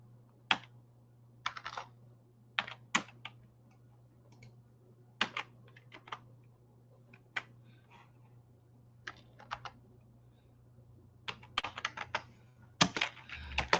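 Quiet typing on a computer keyboard while entering an address: scattered single keystrokes and short clusters of clicks, close and crisp over a steady low hum, with no talking.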